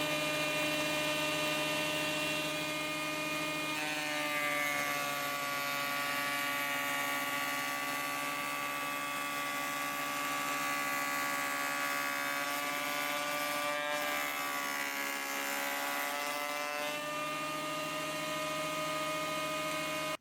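A Powerfist benchtop jointer runs with no vacuum hose attached, giving a steady high-pitched motor whine and hum that holds for about twenty seconds, with slight pitch dips as the load changes. No voices.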